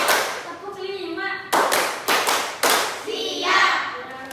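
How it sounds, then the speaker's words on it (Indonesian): Schoolchildren in a classroom clap in unison on a counted chant, three or four sharp group claps landing between stretches of voices chanting together. "Tepuk 1, tepuk 2, tepuk 3, tepuk 4, tepuk 5."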